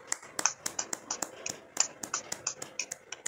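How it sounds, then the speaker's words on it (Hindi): A small group claps steadily after a guided Anapanasati meditation, a run of about fifteen sharp, fairly close hand claps in an uneven rhythm, with no talk over them. "जोरदार ताली से स्वयं का स्वागत करेंगे।"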